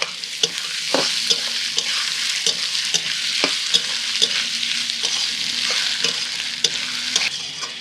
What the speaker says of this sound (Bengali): পেঁয়াজের সাথে আলুগুলো ভালো করে ভেজে নিয়েছি